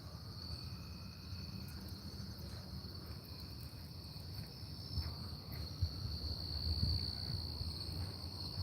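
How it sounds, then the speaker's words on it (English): Steady, high-pitched crickets chirp continuously in a quiet night setting, with faint distant background noise. "Hear those crickets?"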